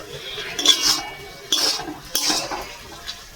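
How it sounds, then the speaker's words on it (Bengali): A metal lid lifted off a pot of simmering potato, snake gourd and papaya curry, giving three separate clinks and scrapes of metal on metal, close and fairly loud with quiet pauses between them. "আমি এখন তরকারি ঢাকনাটা খুলে দেখবো"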